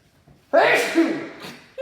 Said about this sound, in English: I need to sneeze real quick